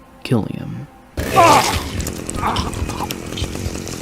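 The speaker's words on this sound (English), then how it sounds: "He then drives a chainsaw into his face" A chainsaw tears into a victim's face during a kill in the Manhunt video game: a loud, rough buzzing roar starts after a short spoken line and a brief pause, then grinds on steadily to the end.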